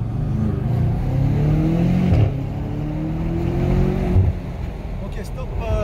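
BMW car engine revving and accelerating up through the gears, a loud, steady drone with rising pitch sweeps and two brief gear-change dips, heard from close by.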